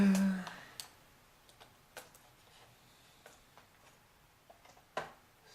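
A replacement keyboard is slotted into a laptop, giving a few faint, close clicks and light taps spaced unevenly over a quiet background.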